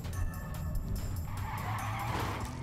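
Trucks skidding in the video game Clustertruck, a continuous tire-squeal screech with engine noise, loud and steady for a few seconds with no talk.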